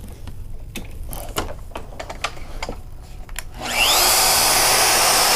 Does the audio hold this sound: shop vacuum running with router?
yes